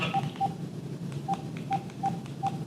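A phone dials out to return a call, a sparse sequence of six short, clear touch-tone beeps with uneven gaps, moderately loud over faint background hiss.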